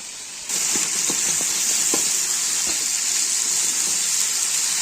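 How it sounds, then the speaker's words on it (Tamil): Four large tomatoes frying in a pan with onion for a fish curry, giving a steady loud sizzle with a few faint crackles, starting abruptly and continuing alone. "இதை வந்து நம்ம நல்லா வதக்கிப்போம்"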